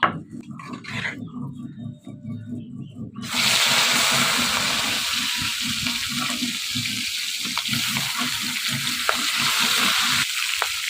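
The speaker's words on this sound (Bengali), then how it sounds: "আমার তো কড়াই গরম হয়ে গেছে, এবার মাছটা দিয়ে দিই।" Jiol fish drops into a hot pan and bursts into a loud, steady sizzle that fills the rest of the stretch. Before that comes a quieter stretch of kitchen sounds and faint talk.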